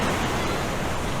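Sea waves wash onto the beach at Infanta, Quezon, giving a steady, close hiss of surf that holds for just over a second with no voices.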